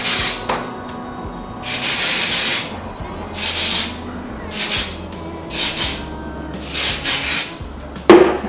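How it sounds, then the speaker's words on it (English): Hair spray hisses onto a long burgundy synthetic lace wig in several short bursts, each lasting about half a second to a second, close and fairly loud, with low handling noise and a soft rustle between sprays. "I can add a little bit of spray to this part."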